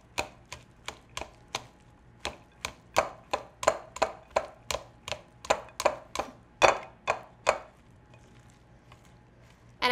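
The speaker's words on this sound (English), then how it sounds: "take some tongs and just toss these really well to combine" Tongs tossing spiralized zucchini noodles in a sticky, creamy avocado lime dressing, making a close, steady run of quick squishy clicks and slaps that grow louder midway and then stop.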